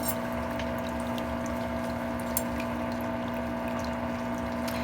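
An electric foot bath used for a pedicure, with feet soaking in it: a steady, close, even hum and churning of pumped water that runs unbroken throughout.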